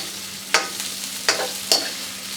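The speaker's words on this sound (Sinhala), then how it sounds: "ඊට ගින්දර සාමාන්‍ය මීඩියම් හීට් එකේ මේ විදිහට මේක හොඳින් කලවම් කරගන්න." A spoon stirs chickpea devilled in a pan over medium heat, with three distinct scraping strokes over a steady, continuous sizzle of frying.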